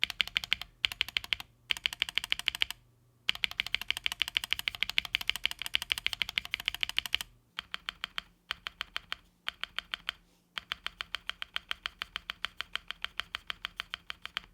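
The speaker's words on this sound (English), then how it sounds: "now let's do the sound test again with this spacebar" Rapid typing on a MonsGeek M1W aluminium mechanical keyboard with a modded spacebar, crisp and close, comes in quick clacking runs separated by brief pauses, with a steady thocking rhythm and no voices.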